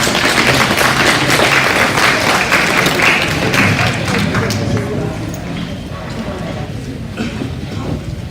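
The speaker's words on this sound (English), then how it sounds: "let's give these kids a real good round of applause." A crowd at a cattle show gives the young exhibitors a round of applause, loud and dense clapping at first that slowly thins out, with voices and arena noise mixed in.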